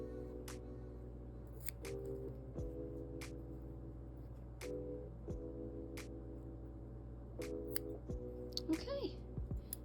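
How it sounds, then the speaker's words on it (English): Scissors snipping off yarn ends on crocheted fingerless gloves: a series of sharp, isolated snips spaced out over a low steady hum, quiet and close, with faint tonal background sounds. "I'm going to snip those"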